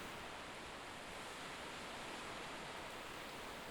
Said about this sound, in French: les vagues de l'océan rencontrent les basaltes noirs produits par le volcan